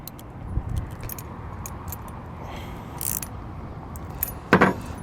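Hex bolts and nylock nuts being tightened on the legs of a B and W Companion 5th wheel hitch in a 2022 Ram 2500 bed: sparse metallic ticks and clinks, then a short louder ratcheting rattle near the end, with no speech.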